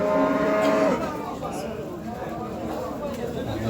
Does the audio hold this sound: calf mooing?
yes